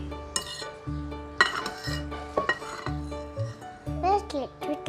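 A spoon clinks and scrapes in a bowl as a child stirs pancake batter, in short bursts under steady adult and child chatter in a home kitchen.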